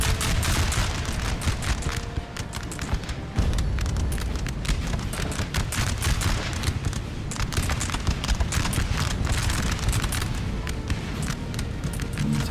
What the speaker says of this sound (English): England appears to be winning this gun battle though.